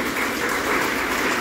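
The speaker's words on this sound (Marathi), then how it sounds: "जोरदार टाळ्या झाल्या पाहिजे." An audience at a yoga project feedback session claps in a brief, dense, even burst of applause.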